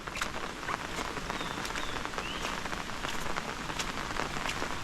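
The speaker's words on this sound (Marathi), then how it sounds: "आज सकाळपासून खूप पाऊस पडतो आहे" Heavy rain pours steadily, a dense broadband hiss with scattered sharper drops spattering on surfaces throughout, close and loud with no pauses.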